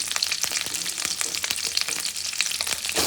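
Garlic fries in a pan for paneer butter masala, a dense, close crackle with rapid popping bursts running steadily throughout, with no voices.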